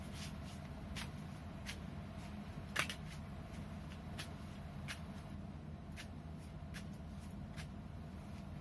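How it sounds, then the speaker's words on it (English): Tarot cards are shuffled in soft repeated riffles and flicks, faint and close, with sharp clicks spaced through a steady low background rumble. "Okay, one more shuffle."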